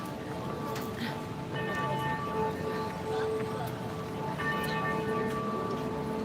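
Church bells ring out over a busy street in Ginza, Tokyo, a few spaced tolls sounding under steady traffic and city bustle.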